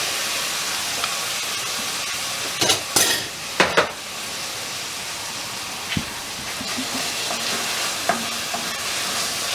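Canned crushed tomato sizzling in a pan for a chicken curry, a steady soft frying hiss with a few louder scraping stirs of a spoon against the pan early on and occasional light clinks.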